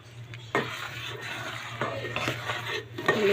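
A spoon stirs champorado, a chocolate rice porridge made with pure cacao, in a pot, giving a few close scraping and clinking strokes against the pot in an uneven rhythm, without talk.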